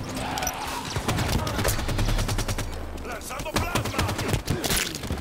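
Dual assault rifles firing in a video game, dense rapid-fire bursts of gunshots crackling nearly nonstop, loud and close, with voices talking underneath.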